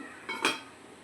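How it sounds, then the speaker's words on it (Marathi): A metal lid clatters onto a pot: a soft knock, then a brighter ringing clink, close and brief in a quiet kitchen. "आता याच्यावर झाकण देते."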